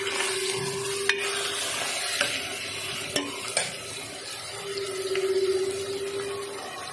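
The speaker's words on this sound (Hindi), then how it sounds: "टमाटरों के साथ भी कीमे को हम थोड़ा भूनेंगे" Minced meat frying with tomatoes in a pan, a continuous close sizzle with occasional clicks and scrapes of stirring, one swell of louder hissing near the end, and no voices.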